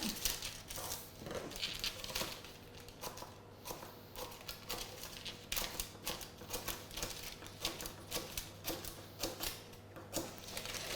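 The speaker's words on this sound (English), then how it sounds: "into that we're just going to cut some nicks, and this is just so it goes around the tin." Scissors snip small nicks into baking paper lining a non-stick sponge tin, a quick run of light crisp cuts and paper crinkles, close and fairly quiet.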